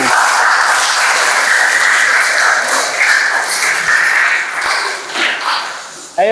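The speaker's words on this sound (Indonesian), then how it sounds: "Kasih tepuk tangan untuk kelompok 1" A classroom audience claps for the first student group after its presentation, with dense, bright applause running several seconds before thinning out near the end.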